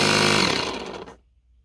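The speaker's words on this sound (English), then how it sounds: "I decided to hook up my air compressor, and as soon as I turn that on," A small air compressor being used to inflate a tire runs with a loud, dense mechanical drone, then cuts off abruptly after about a second, leaving near silence.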